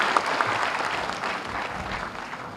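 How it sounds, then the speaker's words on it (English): Audience applause at the inauguration of a South Asian film festival in Goa, a full crowd clapping steadily, close and even, easing slightly toward the end. "And a last applause for everybody who's come from abroad"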